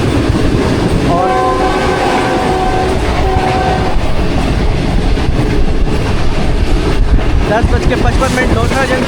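The Pak Business Express train on the Karachi to Lahore line passing Lodhran Junction, heard from on board as a loud continuous rumble with rhythmic clatter and a sustained horn blast early on, with voices speaking in the background.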